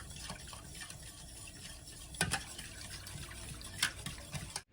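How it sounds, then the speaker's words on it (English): Carolina vinegar BBQ sauce is stirred constantly in a pot as it heats, making a faint, steady liquid swishing with a couple of light scrapes or knocks, close by. "that's going to be the aim of constantly stirring while this stuff is heating up"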